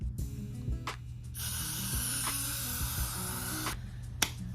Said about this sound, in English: I'm going to spray one layer, let it get sticky and tacky